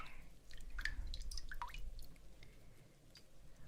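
Cold mountain water dripping and splashing in scattered, quiet drops with soft squishy wet sounds in a calm, close setting, with no talk over it.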